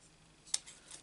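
Scissors cutting paper around a butterfly's head in a stamped craft project, a single quiet snip with faint paper rustle, alone without talk.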